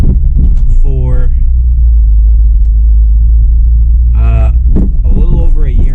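A steady, deep rumble from an idling Acura RSX Type-S engine sits low and close beneath someone talking over it.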